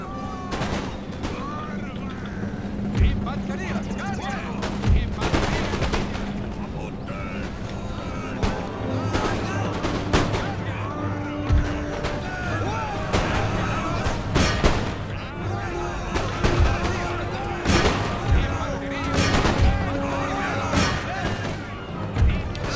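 Musket volleys crack and pop throughout a battle in the Empire: Total War strategy game, with irregular bursts of massed fire over a background of battle ambience and music, and someone talks over it.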